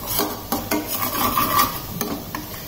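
Fish masala for surmai fish cutlets sautéing in oil in a pan, with a soft steady sizzle under repeated scraping stirs of a spoon against the pan, close and moderately loud, no talking.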